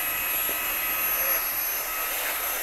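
A Mi Vacuum Mini handheld cleaner runs steadily inside a car, vacuuming the console, giving a continuous high-pitched motor whine and airflow hiss, close and even throughout.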